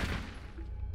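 A short burst of loud, close gunfire from the tactical shooter Rainbow Six Siege opens the moment, then trails off into low rumbling game noise.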